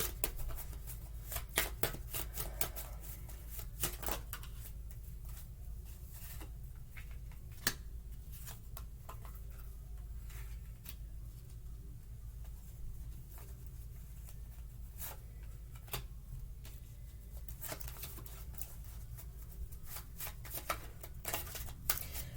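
A deck of tarot cards is shuffled by hand continuously, giving dense crisp riffling and sliding snaps with occasional sharper card slaps, close and fairly quiet, no talking.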